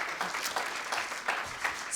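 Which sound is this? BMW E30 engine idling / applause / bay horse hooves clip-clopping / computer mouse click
applause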